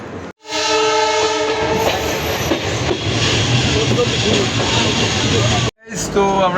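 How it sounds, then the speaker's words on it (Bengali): A slow-moving train passes near Shalimar station on the route toward Puri, with a loud horn blast at the start, then a steady rumble and rhythmic clatter of wagons on rails. A voice speaks briefly at the end. "এই দেখো ট্রেন যাচ্ছে"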